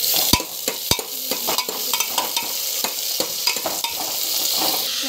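Mustard seeds, cumin, chana dal and garlic frying in a pan, a bright sizzle with a rapid run of clicks and crackles and a few sharp taps of a spoon against the pan, close and continuous, no voices.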